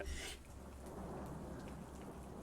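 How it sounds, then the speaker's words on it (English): Steady rain noise plays from a boombox, a soft continuous hiss of falling rain with a brief louder burst at the start. "He just starts playing rain noise over a fucking boombox or something"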